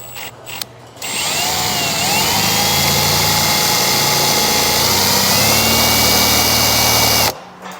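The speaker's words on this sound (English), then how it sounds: "I have a 3/8 drill bit. I'm going to get this drilled out." A drill with a 3/8-inch bit whirs loudly and steadily as it bores a hole while installing a brake controller on a 2022 Ram truck, starting after a brief pause and cutting off sharply near the end.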